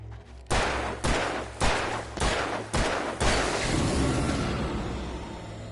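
Six sharp, evenly spaced gunshots ring out one after another in the video game Alan Wake Remastered, each with a quick echoing tail, followed by a lingering reverberant wash as the firing stops.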